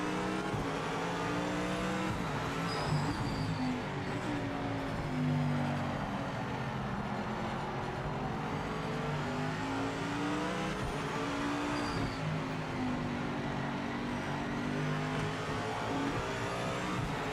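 Race car in the Project Motor Racing video game running over curbs, with a continuous engine drone that rises and falls with revs, plus some tire noise, steady and fairly loud with no talking.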